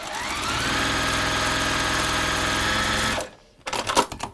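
A sewing machine stitches fabric, running steadily for about three seconds with a fast, even mechanical whir, then stops, followed by a few quieter clicks and handling sounds.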